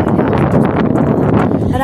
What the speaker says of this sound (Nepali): कस्तो हावा आइरहेको छ